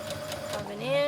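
A sewing machine stitches fabric for a child's corset top, a brief close whir that rises in pitch, with a voice speaking over it.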